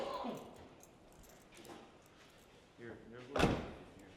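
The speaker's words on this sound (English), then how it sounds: "the door's open and shut" A door is opened and shut inside a car shop, a soft creak followed by a sharp close-up slam, with people talking before and around it.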